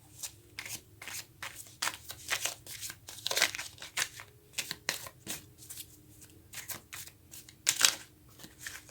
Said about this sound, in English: they're not wanting to shuffle very well yet